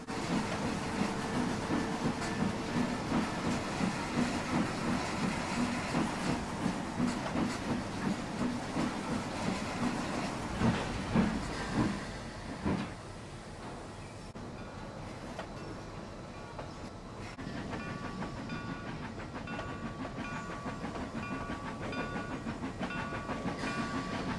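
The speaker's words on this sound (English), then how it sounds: "As the yard engine is doing its yard work, a commuter pulls in, this time as normal, going tender first in this direction" A steam-era yard engine works while a tender-first commuter train moves through a station in Cincinnati, giving a steady rumble and rolling clatter that drops away partway through before a quieter, continuing hum of rail noise.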